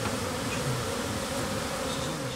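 Honey bees buzz steadily at an apiary of about 300 hives in Manas, Dagestan, a dense continuous drone close to the hives with no talking.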